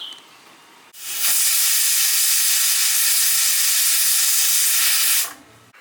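Steam hisses loudly and steadily from a covered pot of boiling chana dal, a broad rushing sound that starts abruptly, holds for about four seconds and then cuts off.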